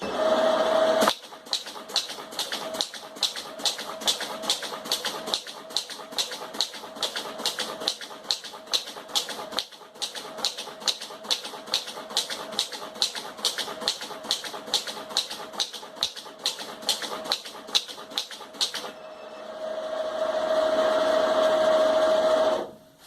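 A Galaxy FM600 paper folding machine cross-folds sheets in a rapid, steady train of sharp clacks lasting most of the run, loud and close, then winds down into a brief whirring hum before stopping.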